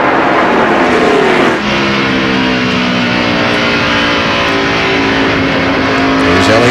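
NASCAR stock cars roar past at the 2002 Southern 500, a loud, continuous engine drone with rising and falling pitch as cars sweep by close to the track, with no voices.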